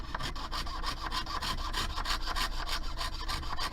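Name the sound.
jeweler's saw cutting metal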